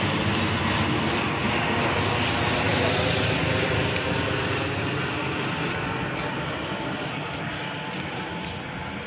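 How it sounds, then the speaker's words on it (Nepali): A plane flies low overhead near Kathmandu's international airport, heard from a hillside walk between Kirtipur and Chobar as a loud, steady engine roar filling the whole clip and easing slightly toward the end. "हाम्रो माथिबाट प्लेन जाँदैछ है।"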